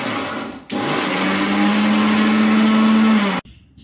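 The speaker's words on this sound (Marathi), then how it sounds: "10 ते 12 लसूण, 15 ते 20 हिरवी मिरची आणि चवीपुरतं मीठ घालून मिक्सरमध्ये बारीक करून घेतलं" A mixer grinder whirs loudly and steadily for about three seconds as it grinds garlic, green chillies and salt, then cuts off abruptly into quiet.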